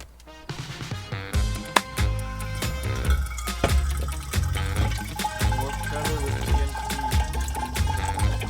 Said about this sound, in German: Unser Wasserfilter müsste, glaube ich, auch mal gewechselt werden.